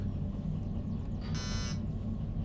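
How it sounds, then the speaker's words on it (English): In the Derail Valley train simulator, a brake warning light triggers one short, sharp electronic beep that cuts through a steady low rumble from the locomotive cab. "you now get a beep as the light comes on"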